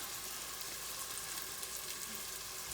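Onions fry in a pan over a gas flame for tomato soup, giving a steady, soft sizzle that stays even throughout, with no voices.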